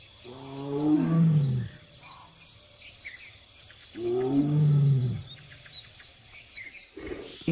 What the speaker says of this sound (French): Il tente d'en attirer une avec ses rugissements.